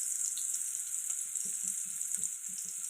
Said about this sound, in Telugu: పచ్చిమిర్చి ఇవి ఇప్పుడు ఫ్రై చేసుకోవాలి